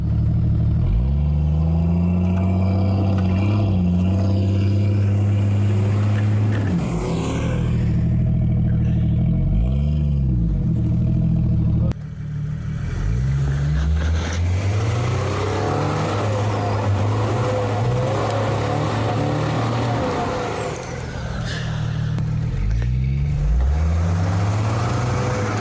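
A car drives off-road at night on aired-down tires, its engine droning steadily close by with rising and falling revs and occasional clatter, loud and continuous throughout.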